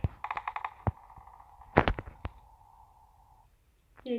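Gunfire in a video game comes as a quick burst of sharp, clipped shots followed by a few louder single bangs, then a short quiet gap before another noise at the end.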